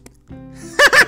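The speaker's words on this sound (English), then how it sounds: "They're actually just sticking out their tongue and then blowing." A person with the tongue out blowing a raspberry: a brief buzzy, sputtering double burst that follows a faint hum, loud and close.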